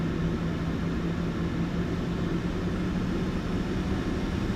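A person's voice imitates a CFM56 jet engine as a steady, breathy roar. It holds an even level for several seconds with no pauses or talk.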